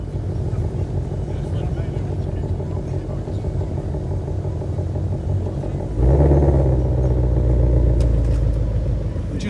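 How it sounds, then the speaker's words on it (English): Volkswagen Golf Mark II with larger bumpers driving out at a car meet, a low steady engine rumble that swells louder and deeper as it pulls closer, with a crowd murmuring around. "Just on its way out is this beautiful Mark II Golf with the larger bumpers."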